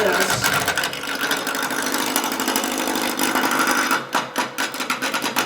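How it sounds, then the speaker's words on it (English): A woodturning lathe at a club demonstration runs at its low speed, a steady mechanical whir and rattle that holds throughout before dropping into uneven knocking near the end. "this lathe maxes out at 26"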